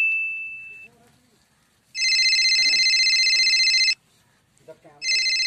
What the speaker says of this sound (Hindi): रुक जाओ लौंडिया वाले का फोन।